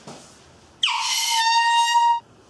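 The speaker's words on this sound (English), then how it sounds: "invest in a better air horn if you guys get one" A single loud air horn blast starts abruptly and holds a steady, harmonic-rich tone for about a second and a half before cutting off, with only faint room noise before and after.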